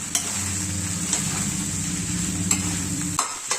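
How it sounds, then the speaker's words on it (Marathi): Sago pearls are tossed into a pan of browned potatoes and stirred, giving a steady soft sizzle of frying with scattered scraping clicks of a spoon against the pan. "बटाटा छान ब्राऊन झालेला आहे आता आपण टाकून घ्यायचं या साबुदाणा सगळं"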